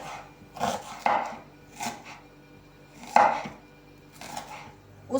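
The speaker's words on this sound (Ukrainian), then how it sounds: "Цибулю для начинки я ріжу" A knife chops onion on a cutting board in about six or seven crisp, unevenly spaced strikes, close and clear, with no talking.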